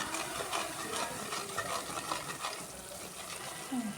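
Garlic, chili powder and turmeric fry in hot oil while being stirred for a pickle, giving a steady close sizzle with soft scraping stir sounds throughout.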